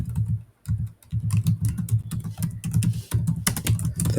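Rapid typing on a computer keyboard, with dense clattering keystrokes in quick bursts and a few brief pauses, heard close up with no talking.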